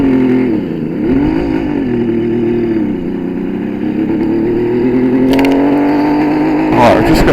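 A Kawasaki 750 H2C motorcycle out on a road test drones steadily at close range, its engine holding an even pitch before revving higher toward the end.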